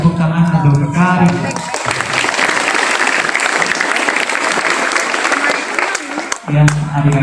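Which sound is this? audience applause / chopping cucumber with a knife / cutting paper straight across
audience applause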